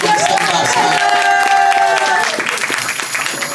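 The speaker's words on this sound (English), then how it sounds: "Please clap it up for your bomb ass DJ." An audience claps and cheers for a DJ at a spoken-word poetry event, a dense burst of applause with music tones ringing over it, tapering slightly toward the end.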